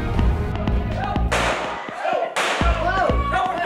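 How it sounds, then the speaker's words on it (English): Two sharp, loud gunshot-like bangs ring out indoors with echo during a school active shooter drill, separated by about a second, amid thumps and faint background voices. "The intent was for our staff to experience hearing the gunshots"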